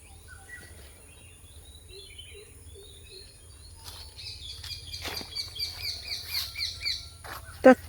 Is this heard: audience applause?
no